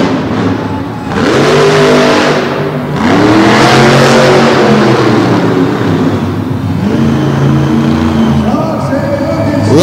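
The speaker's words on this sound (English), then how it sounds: "Getting a real good drive here on the dirt inside the Pennsylvania Farm Show Complex." A monster truck engine roars and revs hard while the truck drives on dirt inside the Pennsylvania Farm Show Complex arena, loud and close, with rising and falling throttle surges across the whole stretch.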